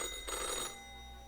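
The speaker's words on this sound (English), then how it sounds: "the phone rings in an ear-piercing metallic clatter" A telephone rings in the video game Death and Taxes, giving a brief, faint metallic ringing burst that fades after about half a second, heard alone with no voices.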